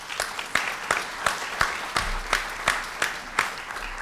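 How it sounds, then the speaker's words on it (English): An audience at a talk on American Muslim pathways applauds, with steady clapping and regular sharp peaks that sound like rhythmic, unison claps. The applause stays moderately loud throughout, with no talking over it. "give Daniel a big round of applause"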